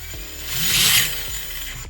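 An RC crawler's drivetrain spins up with a brief whirring, gear-driven mechanical whine that swells to a peak and then settles, heard up close without talk.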